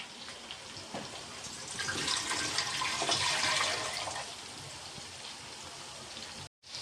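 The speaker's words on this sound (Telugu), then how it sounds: "దీంట్లో వాటర్ వేసుకోవాలి." Water pours steadily into a pot on a stove for ragi mudde, a hissing splash that swells in the middle and then eases off before stopping abruptly.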